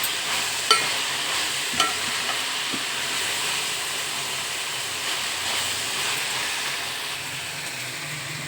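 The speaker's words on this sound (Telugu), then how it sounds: "అల్లం పేస్ట్ ఇది కూడా పచ్చివాసం పోయే వరకు వేస్తాం" Ginger paste frying in a pan gives a steady, close sizzling hiss, broken by a couple of sharp spatula taps as it is stirred.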